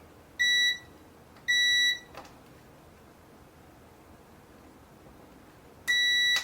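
A multimeter beeps during a continuity test on a soldered tactile switch connection, giving three short, clear electronic tones, two close together and a third after a pause, in a quiet room.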